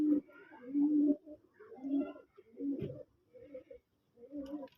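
Native coloured golla pigeons at a pigeon farm coo in soft, low, throaty bursts, several calls in a row with short pauses, fairly faint and close.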